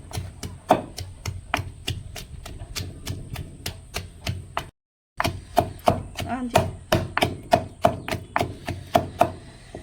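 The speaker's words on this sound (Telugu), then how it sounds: "ఇదిగోండి ఉల్లిపాయ అయితే నూరేసుకున్నాను." Onion is crushed on a traditional grinding stone after garlic, giving a steady series of sharp, close knocks at a brisk rhythm, broken by one short silence.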